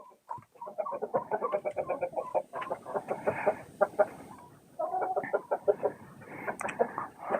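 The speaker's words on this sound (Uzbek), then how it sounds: "Mana Avstralov Ruminiya tovuqlarimiz tuxumda yosh" Australorp and Romanian laying hens cluck in quick, rhythmic bursts, close by, with several birds overlapping and brief pauses between runs of calls.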